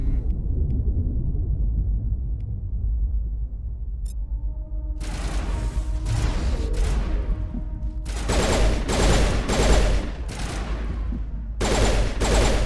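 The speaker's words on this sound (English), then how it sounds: "What are they shooting at?" Gunfire in the Mass Effect video game, distant rumbling shots at first, then sharp loud bursts of rapid fire in several clusters over a low steady drone.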